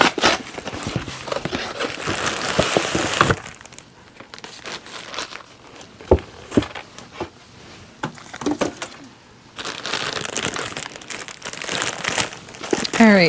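A plastic bag holding bare root perennials crinkles and rustles loudly as it is handled, in bursts with quieter pauses between.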